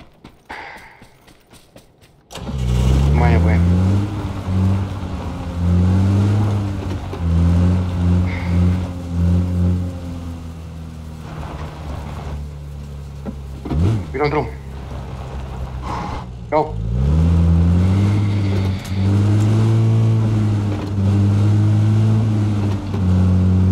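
Vehicle engine in the game PUBG, droning steadily and revving with shifting pitch over most of the span, loud and close, with players talking over it throughout.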